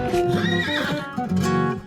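A horse neighs and whinnies loudly and close up, with a clip-clop of hooves, inside a Brazilian gaúcho radio station jingle on Rádio Ilha Capital, the call repeating in two bursts over musical backing.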